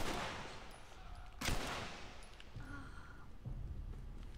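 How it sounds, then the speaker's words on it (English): Gunfire in The Last of Us video game: a loud single shot cracks out around the middle of a dim, noisy game scene, with fainter shots and background activity around it. "I'm just gonna shoot him"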